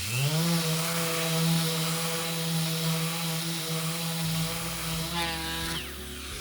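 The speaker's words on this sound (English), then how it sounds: "I will sand it until it goes away" Steady whine of a power sander on wood at a constant pitch, droning loudly, with a brief shift in tone toward the end as it winds down.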